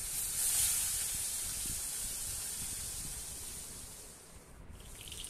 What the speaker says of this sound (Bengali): এরপর আমার বাকি যে মাছগুলো ছিল সেই মাছগুলো আমি কড়াইয়ের মধ্যে ছেড়ে দিয়েছি।